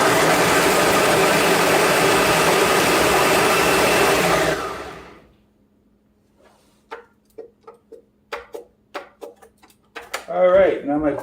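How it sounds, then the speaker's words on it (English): A kitchen blender runs with a loud, steady whirring hum, then cuts out and winds down, followed by faint clicks and taps and then a voice speaking. "now my blender just cut out"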